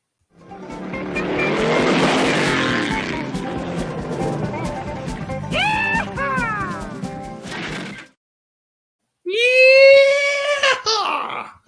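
A played car sound effect of driving and skidding: a continuous roaring engine with rising tire squeals and skids, then after a short gap a loud final squealing screech, near and prominent.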